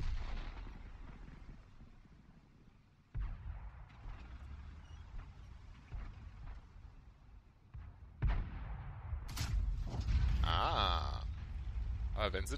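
Tank destroyer cannon in World of Tanks, several heavy booming shots with rumbling tails, one sharp blast standing out near the end, under steady German commentary.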